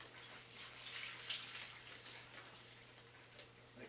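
Liquid jerky marinade is poured into a bag of meat, a soft, steady splashing pour heard close up and continuously for a few seconds with no talking.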